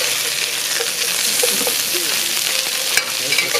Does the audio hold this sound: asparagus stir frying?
yes